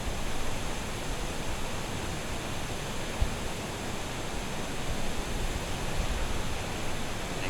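Water rushes over the spillway at Quaker Lake, a loud, steady broadband roar with no break and no voices.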